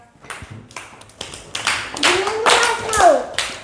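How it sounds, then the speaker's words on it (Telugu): A classroom of young children clapping hard in a burst of uneven, overlapping claps that build in loudness, with children's voices mixed in. "క్లాప్స్ కొట్టండి గట్టిగా"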